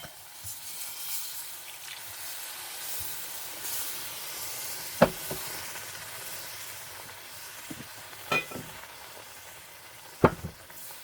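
Chicken stock hits a hot pan of softened onions for a cornbread dressing gravy, giving a steady, close steam hiss and sizzle broken by a few sharp pops and clicks.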